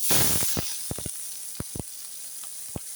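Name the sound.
capsicum, onion, garlic and ginger frying in hot oil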